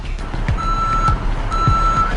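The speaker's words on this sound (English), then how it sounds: "truck's here" A truck's reversing alarm sounds two long, steady beeps, loud and close, over engine rumble and outdoor noise.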